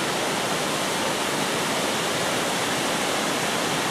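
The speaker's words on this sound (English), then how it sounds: "We made it to the pool at the end of the waterfall." Waterfall pouring into a pool at the base of steep cliffs in the Marquesas, French Polynesia: a steady, dense, close rush of falling water, loud and unbroken throughout with no voices.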